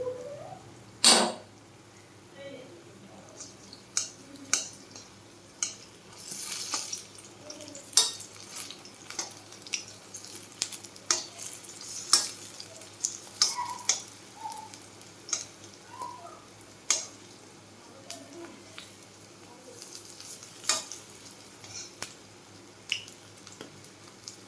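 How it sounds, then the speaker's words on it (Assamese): Banana pitha fries in oil in a kadai, a soft, steady sizzle broken by frequent small pops and scraping stirs across the whole stretch, with no talking. "এনেকৈ কেৰাহীত এতিয়া পিঠা দিছোঁ।"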